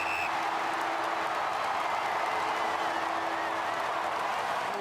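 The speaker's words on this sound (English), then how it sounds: "Listen to the crowd when the siren sounds." A large stadium crowd at an Australian football match roars and applauds continuously, a dense wash of cheering and clapping that stays loud throughout; a short final siren tone sounds at the very start.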